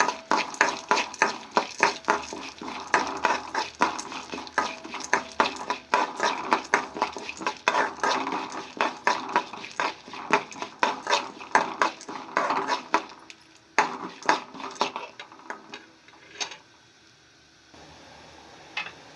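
Cumin, chana dal and urad dal frying in a pan: a steady run of quick scraping and clinking spoon strokes against the pan, close and busy, thinning out toward the end, with no talking.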